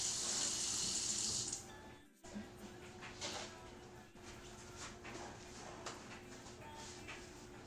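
A kitchen tap runs as dough is rinsed off hands while making pasta ravioli, a steady hiss of water that stops abruptly after about two seconds, followed by faint clatter and quiet handling.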